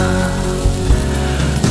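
Pig lung stir-fries in a wok with green and red chili peppers, soy sauce and cooking wine, producing a loud, close, continuous sizzle with a few soft scrapes and no talking.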